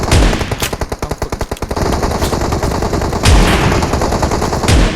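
Shotgun fire in PUBG Mobile rings out loud and close: rapid repeated blasts at first, then a few separate heavy booms spaced apart.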